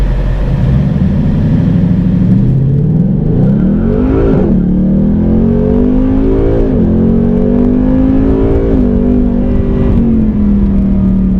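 A 2018 Ford Mustang GT V8 with 10-speed automatic roars steadily at high revs during wheelspin, its pitch climbing and dipping as the throttle surges, loud and close throughout.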